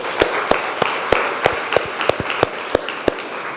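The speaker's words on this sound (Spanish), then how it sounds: "Denle un aplauso al Señor." A congregation at a church sermon claps in a steady, regular rhythm, sharp individual claps standing out over a broad bed of softer clapping.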